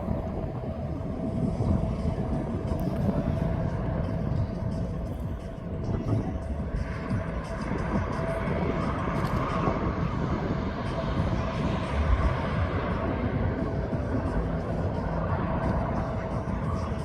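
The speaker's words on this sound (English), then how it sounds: "There goes that jet2.com livery, now up in the air, off to Ibiza." A Jet2.com airliner climbs out from East Midlands Airport, its jet engines giving a steady, broad roar at a moderate distance with no talk over it.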